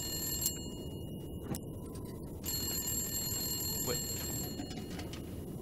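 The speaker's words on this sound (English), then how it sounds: "Where's the phone? Is it upstairs?" A telephone rings inside a building in the survival game The Long Dark, with a thin, high-pitched bell trilling in bursts over a steady wind-like background rush. No voices are heard.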